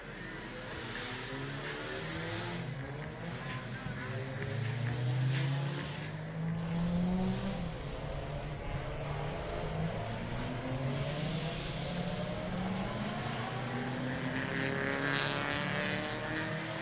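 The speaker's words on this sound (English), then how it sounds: "Cars filtering out on track on a turn 2." Several race car engines roar steadily, revving and shifting pitch as cars pass by at moderate distance at turn 2, one after another, heading out onto track at a GRIDLIFE Midwest time attack and drift festival.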